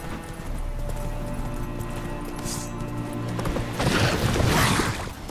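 Horse hooves clip-clopping as a rider travels in The Witcher 3: Hearts of Stone, a steady rhythmic gallop that swells louder near the end over game ambience and music.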